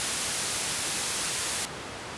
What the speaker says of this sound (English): So white noise is the presence of all frequencies in a single sound.